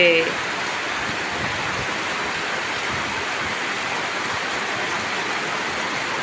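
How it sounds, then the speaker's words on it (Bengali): Steady, heavy rain pours down in a dense, unbroken hiss that stays loud and even throughout, with a brief voice at the very start. "তো এই যে দেখো ফাইনালি বৃষ্টি হচ্ছে"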